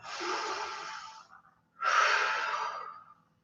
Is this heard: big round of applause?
no